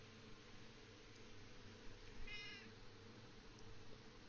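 A domestic cat gives a single short, faint meow partway through, heard alone against a steady hiss of background noise.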